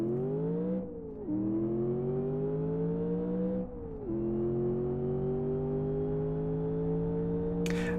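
A car engine revs in the Live For Speed racing game, droning up through the gears with two brief dips at the shifts, steady and loud, and no talk.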